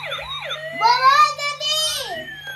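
Wailing ambulance siren from a toy vehicle given as a Christmas gift, rising and falling tones close by, with a voice briefly heard at the start.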